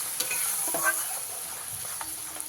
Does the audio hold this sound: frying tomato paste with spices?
yes